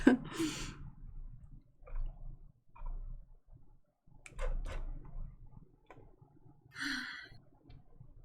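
A breathy sigh sound effect auditioned for a plant-like game creature, heard in several short separate bursts of breath and hiss with quiet gaps between them, one louder hissing exhale near the end.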